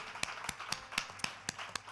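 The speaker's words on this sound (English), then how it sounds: "Big round of applause for Sean" Sparse, evenly spaced handclaps from a small audience at a live London music showcase, fairly quiet and steady in rhythm, acknowledging the stage sound engineer.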